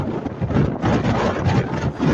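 Strong wind gusts of 50 to 60 km/h at Lafontaine Beach in Simcoe County, Canada, a loud rushing, buffeting roar against the microphone that surges and eases over a couple of seconds, with no voices.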